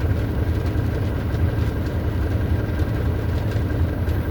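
Two-stroke motorcycle engine idling or running nearby, a steady dense low rumble with constant loudness throughout, no voices.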